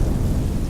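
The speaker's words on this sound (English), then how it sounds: "Thunderstorm rolls in." Thunder from a storm rolling in over a campsite near the Mississippi headwaters, a loud, continuous low rumble with rain-like hiss, close and heavy throughout the short stretch.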